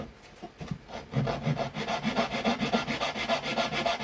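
An upper wooden wing spar on a Flyin' King aircraft wing build is trimmed back with steady, close rhythmic rasping strokes that build in pace and continue without pause, with no talking.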